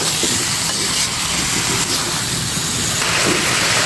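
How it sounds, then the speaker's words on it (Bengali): Hot water poured into a pan of frying sweet pumpkin curry, a steady loud hiss and bubbling steam that holds throughout with no talk. "এই গরম জলটা এখন আমি দিয়ে দিচ্ছি। বন্ধুরা, গরম জলটা দেওয়ার সাথে সাথে কিন্তু তরকারিটা ফুটে উঠেছে।"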